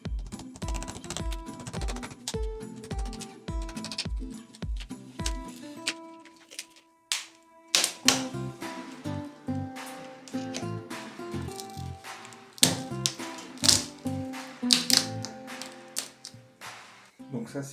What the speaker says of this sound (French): on retire tout l'encadrement de porte.